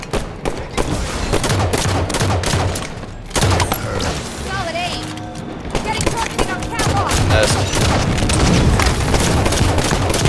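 Halo multiplayer combat with rapid bursts of gunfire and thudding grenade explosions throughout, and whooshes and electronic effects in between. Players talk faintly beneath the action.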